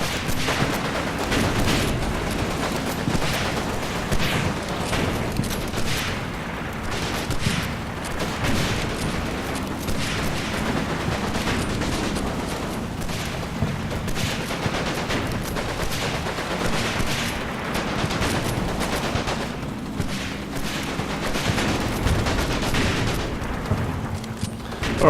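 Continuous battlefield gunfire in a war video game, with dense overlapping volleys and booms rolling on without pause, amid which an M5 tank fires canister shot.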